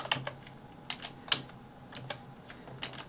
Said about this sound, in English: Then just type